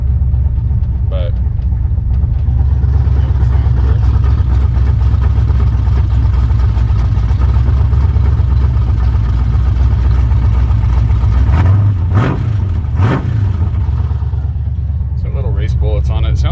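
A 1983 Chevrolet C20 pickup with a hot rod cam idles with a steady, deep rumble, then gives a couple of quick revs near the end, heard up close.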